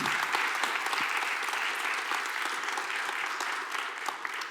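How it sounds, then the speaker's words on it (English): Applause from a conference audience at the end of a programming talk, dense, even clapping that fills the hall without pause and fades slightly toward the end. "Applause!"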